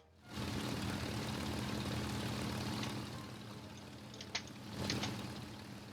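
A bomber's aircraft engine drones steadily in the War Thunder video game, a sustained low hum with a couple of brief higher clicks and flutters layered on top near the end.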